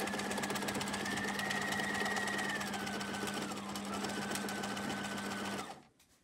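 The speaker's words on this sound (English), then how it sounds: "Now you'll notice when I was sewing that I didn't take any of the pins out." A sewing machine stitches steadily over pins along the seam of a snap pouch, running as a close, even mechanical hum with rapid needle ticking for about five and a half seconds before stopping abruptly.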